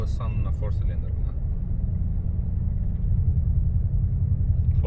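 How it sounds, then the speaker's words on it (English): A deep, steady exhaust rumble from a car with its muffler deleted, running as a 4-cylinder, droning continuously and fairly close, with brief voices over it at the start. "Let's see how it sound on a 4-cylinder now."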